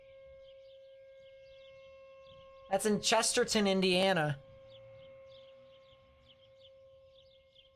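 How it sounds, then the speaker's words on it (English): A tornado warning siren in Chesterton, Indiana, sounds during the June 2022 derecho. It holds a steady, drawn-out tone throughout, while someone briefly speaks over it partway through. "Oh, that's the tornado warning."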